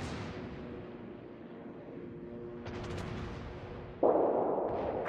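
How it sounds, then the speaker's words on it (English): The secondary guns of the Tirpitz, a German battleship, firing in World of Warships: rapid muffled reports over a low hum, then a louder burst of blasts near the end, with no one talking. "All stations requesting fire on the designated target."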